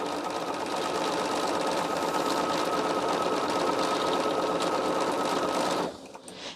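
A sewing machine stitches quilt pieces together in one long, steady, close whir that stops near the end, with no talking.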